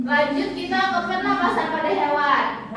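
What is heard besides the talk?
No everyday noises stand out.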